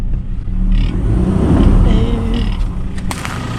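A 4x4 stuck in deep wheel ruts in the Northern Territory outback revs and rumbles steadily up close, its engine swelling and easing over a few seconds with faint clunks near the end.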